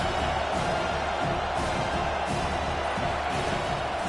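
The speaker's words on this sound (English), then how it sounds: "Listen to this crowd just shaking the girders of this place, trying to help their defense" A stadium crowd at a college football game roars steadily as a dense, continuous wall of noise, loud throughout with no pauses.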